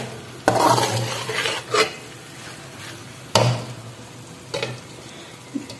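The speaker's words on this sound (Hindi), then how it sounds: "ये जो सब्जियां हैं इसके अंदर डाल देंगे। और इसको मिक्स कर देंगे" Vegetables are stirred into frying chicken masala in a pan, giving a soft sizzle under repeated scraping and clattering strokes of a spoon against the metal.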